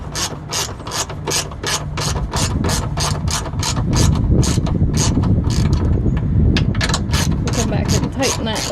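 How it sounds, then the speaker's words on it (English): Rapid, steady ratchet clicking fills the stretch, a mechanic tightening sway bar bushing bolts under a 2003 Honda Element EX, close and loud with some clanking and faint background noise. "Now we're going to come back to the driver's side and tighten up these bolts."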